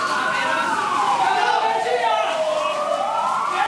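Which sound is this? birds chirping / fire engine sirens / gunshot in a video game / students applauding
fire engine sirens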